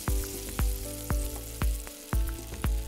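Chicken frying in oil in a pan for a green chicken dish, a steady close sizzle broken by several sharp scraping stirs at a regular pace, with no talking.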